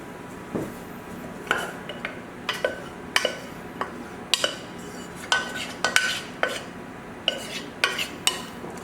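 A sauce spoon stirs sauce into baked ziti with mushrooms and spinach, producing repeated wet scraping strokes and clinks against the pot in a steady, somewhat irregular rhythm, close and moderately loud.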